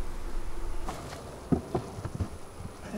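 Honeybees fanning at a beehive entrance give a soft, steady buzzing hum, with a few louder close wingbeat swells partway through and no talking.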